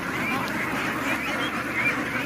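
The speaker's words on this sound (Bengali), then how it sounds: "এটা হলো মেয়ে হাঁস। কেমনে বুঝবো? এটা যে মেয়েটা ডাকতেছে" A female duck quacks steadily at close range, a continuous nasal chatter of calls with no speech.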